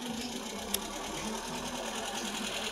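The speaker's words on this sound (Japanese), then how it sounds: "頑張ってエンジンが回っております" A Volvo Amazon engine idles right after a one-shot start, a faint, even, rapid mechanical chatter running steadily throughout with a single brief click near the start.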